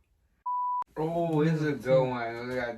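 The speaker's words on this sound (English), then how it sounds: "That's my phone. I forgot to turn the ringer off." A phone rings with a single short electronic beep tone, then a person starts talking right after it.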